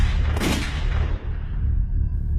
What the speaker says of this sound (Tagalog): Ito ang barel. Putok mo tapos tumakbo ka.